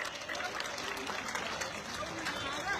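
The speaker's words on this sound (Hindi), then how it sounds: "सब एक बार उनके लिए ताली बजाएंगे।" A crowd at a live political speech in Delhi breaks into steady applause, a continuous wash of clapping heard from a distance and fairly faint, with no let-up across the whole stretch.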